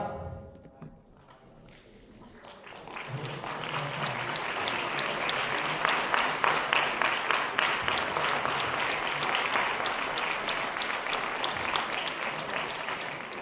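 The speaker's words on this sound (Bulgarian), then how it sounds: "Аплодисменти отново и сега." At a beauty pageant award ceremony in a mall, an audience's applause swells up after a quiet moment and continues as steady, rhythmic clapping, partly falling into unison beats, moderately distant.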